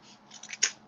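A few quiet scissor snips cut through paper during heat embossing crafting, building to one sharper cut near the end.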